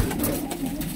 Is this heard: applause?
no